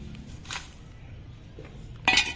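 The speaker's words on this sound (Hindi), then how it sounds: "एक ही बर्तन में इनको डाल देंगे" Onion and garlic peels go into a pot. Soft clinks and rustles are followed by a louder metallic clatter near the end as the utensil is handled, heard close up with no speech.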